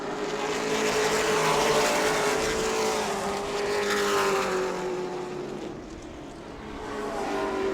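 Race cars at New Smyrna speedway accelerating back up to speed, a loud, close engine roar with a rising pitched whine that swells, dips and surges again as cars pass.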